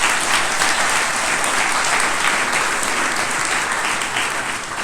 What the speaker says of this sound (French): je vais vous demander de bien vouloir les applaudir